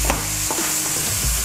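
Halved garlic cloves sear in a hot pan for a beef stew, giving a steady close sizzle with a few light stirring scrapes.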